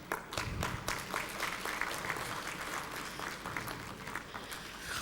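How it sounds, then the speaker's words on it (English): An audience at a positive parenting seminar gives a round of applause, a steady, fairly close patter of many hands with distinct individual claps standing out throughout, no speech over it. "Let's have a round of applause."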